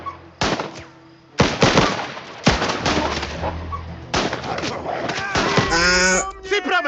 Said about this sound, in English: Start shooting, Tex.